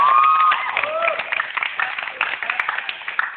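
Audience clapping at a school gathering, a scattered patter of hands that starts fuller and thins out over a few seconds, heard under a high whistling tone and some voices.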